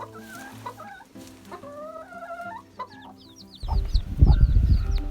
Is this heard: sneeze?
no